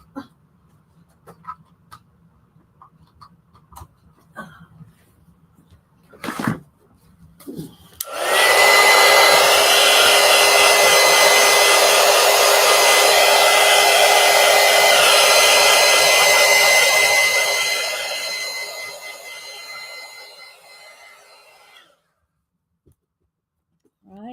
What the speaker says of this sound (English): Let me dry that with the heat gun because I want to have time to do our giveaway too.